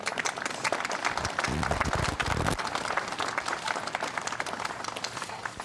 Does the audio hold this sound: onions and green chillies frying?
no